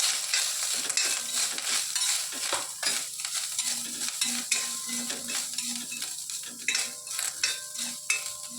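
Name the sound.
grated coconut roasting and being stirred in a pan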